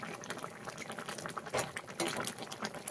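Egg curry bubbles gently in a pot, a soft continuous simmer with small pops and bursts, quiet and close, with no one speaking.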